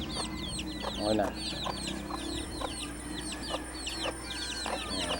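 Chickens at a village fiesta in San Jose cluck and crow in short repeated bursts throughout, with a rooster-like call near the start, over steady outdoor crowd noise and a low hum, while people talk nearby.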